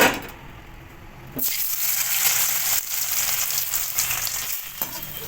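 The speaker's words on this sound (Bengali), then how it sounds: "পনিরটা ভেজে নেওয়ার জন্য পনির ছেড়ে দেবো কড়াইতে" After a quiet moment, paneer drops into hot oil in a wok and a loud, steady sizzle of frying takes over, with a few clinks of a spatula.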